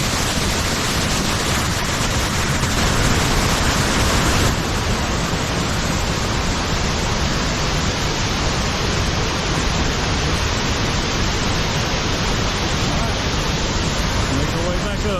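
Heavy, steady rush of water from a waterfall in Cherokee National Forest, a dense broadband roar that never lets up, with a person speaking briefly over it near the start.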